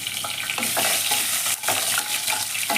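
Spices, including bay leaves and dried red chillies, frying in hot oil in a pan: a constant loud sizzle broken by a few quick scrapes of stirring, close by, with no talk.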